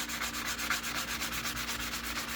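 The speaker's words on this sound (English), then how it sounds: "So I can take my sanding sponge here." A sanding sponge rubs back and forth over model railway track rails to clean off solder after hand-built switch work, giving a close, rhythmic scratchy hiss of quick even strokes with no talking.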